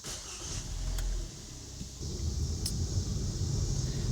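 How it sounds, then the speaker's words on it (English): A rebuilt Kia car engine starts after reassembly and settles into a low, quiet idle rumble, with a brief dip before the steady running sound and no talking. "I'm going to turn on the car, take it for a test drive"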